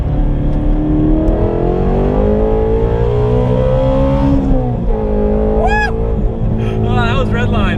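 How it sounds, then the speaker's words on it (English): A car engine climbs steadily toward redline after a downshift, its loud revving pitch rising for several seconds before dropping off, with a person talking over the engine near the end. "I'm gonna see if I can get a little area where I can downshift and we can rev it out"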